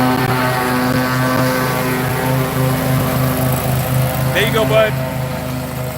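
A riding lawn mower engine runs steadily with a droning, propeller-like hum that holds throughout, close and loud, while someone talks briefly over it.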